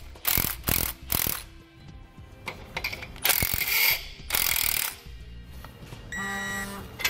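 A ratchet wrench tightens bolts on the lower bracket of an Air Lift LoadLifter 7500 XL air helper spring, sharp bursts of rapid clicking broken by short pauses and metallic handling, close up.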